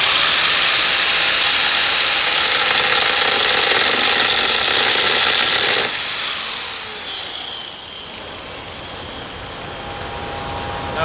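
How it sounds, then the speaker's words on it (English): A 4.5-inch angle grinder with a cutoff wheel cuts into a crack in aluminum, a loud, sustained high whine and hiss that drops off as the tool eases away, leaving a quieter whirring tail. "you take the grinder and you want to grind straight through the root of it"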